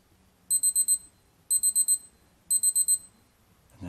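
Citizen watch alarm tone 2 plays three evenly spaced bursts of four rapid, high-pitched electronic beeps, close and clear over quiet room noise, followed by a brief handling rustle at the end.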